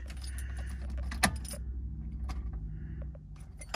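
Keys jangle as the ignition switch of a Honda Civic EG is turned, a close metallic rattle with one sharp click, then faint clinks and quiet shuffling in a garage with no talk.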